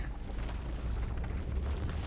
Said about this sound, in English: So we'll have to use rock explosion on these last 2.